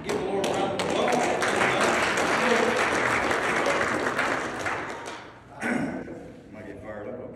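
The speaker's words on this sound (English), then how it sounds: "Give the Lord a round of applause" A church congregation at a testimony service breaks into sustained, full applause, dense and close. It dips near the end, then swells briefly again with a few louder claps.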